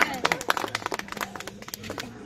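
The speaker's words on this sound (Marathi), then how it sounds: "टाळ्या वाजवा." An audience at a Marathi stage event claps in scattered, uneven bursts, with sharp individual claps mixed among voices and talk throughout.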